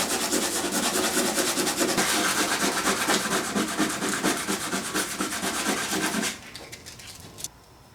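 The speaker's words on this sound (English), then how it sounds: "grind these areas down and we'll see how horrible it is" A power grinder works close and loud over the trunk lid of a 1990 Miata, a steady abrasive rasp with a fast pulsing texture, stopping abruptly near the end before a faint clatter.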